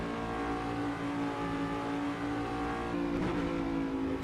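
A GT prototype race car lapping Road Atlanta in the Assetto Corsa driving game, its engine droning steadily and loudly at high revs with a slight pitch shift near the end, with no talk.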